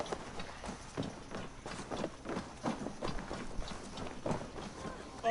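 Horse hooves clip-clop at a steady galloping rhythm in the Assassin's Creed Valhalla video game, moderately loud and close, with game music and ambience running underneath.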